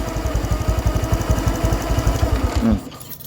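A Honda Wave 110i motorcycle engine runs with a fast, rough rattling knock pulsing steadily for nearly three seconds, then cuts out abruptly into quiet.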